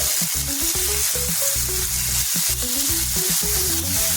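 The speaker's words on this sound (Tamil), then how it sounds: "அதில் வந்து இந்த பெசரி வச்சுருக்கேன் சிக்கனும் சேர்த்துக்குவோம் எண்ணெய் வந்து நிறைய சேர்க்கக்கூடாது கொஞ்சமாக சேர்த்துக்கணும்" Chicken pieces frying in a small amount of oil for homemade shawarma. A continuous, close sizzle plays with tonal background music throughout.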